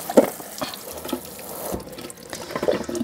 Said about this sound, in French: juste la rincer à l'eau